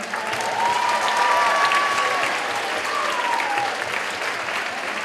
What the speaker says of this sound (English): So we're going to give a round of applause for him.